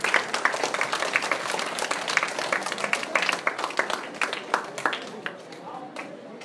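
A crowd at an interschool karate championship in Gurugram claps in a loud, dense burst of applause that fills the hall, then gradually thins and fades toward the end.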